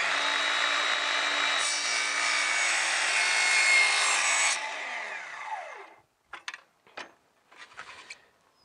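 A power saw cuts a vinyl plank for a stair riser on an open staircase. Its loud, steady whine runs for about five seconds and then winds down, followed by a few short clattering knocks and no speech.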